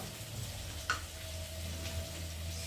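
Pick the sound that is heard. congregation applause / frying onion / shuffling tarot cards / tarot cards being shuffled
frying onion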